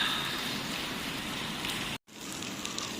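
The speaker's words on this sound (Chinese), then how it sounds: "这天气是老是下， 这雨下的" Heavy rain pours steadily in Yiwu, a continuous dense hiss of drops drumming on surfaces around a small three-wheeled camper van, broken by one brief dropout near the two-second mark.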